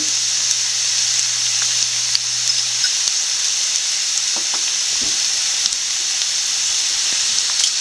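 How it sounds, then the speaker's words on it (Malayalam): Fish and spices with pepper powder sautéed in a pan for a Kerala fish molly, a steady, even sizzle and hiss of frying throughout, close and continuous with no talking. "നല്ലപോലെ ഒന്ന് വഴറ്റി കൊടുക്കാം"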